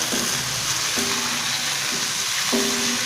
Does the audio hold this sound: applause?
no